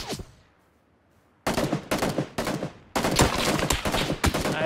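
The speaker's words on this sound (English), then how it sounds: "I'm taking fire." Rapid bursts of automatic gunfire from the PUBG battle royale video game crackle loud and close, first a short decaying shot, then several clustered volleys that merge into a sustained barrage with no talking.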